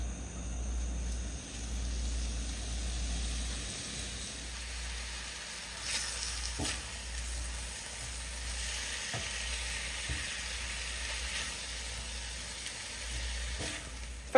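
Seafood dropping into a lightly oiled pan, a soft continuous sizzle with occasional brief clicks and scrapes of utensils, fairly quiet and close, no talking.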